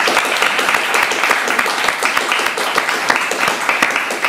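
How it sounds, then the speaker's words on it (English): Many hands applaud at a lecture on world cultural heritage preservation, a continuous, fairly loud crackle of clapping with scattered sharper claps standing out, no voices over it. "ask for a round of applause for Michelle"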